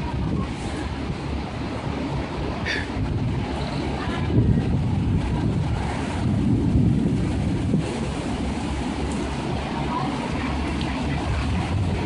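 Strong derecho storm winds roar steadily and loudly at close range, a dense broadband rush with gusty swells, heard outdoors in Stockbridge, Georgia during a supercell.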